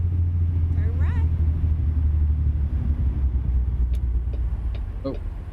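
A truck engine in American Truck Simulator, with an 18-speed transmission, drones as a loud, steady low rumble throughout, with faint higher tones rising now and then over it.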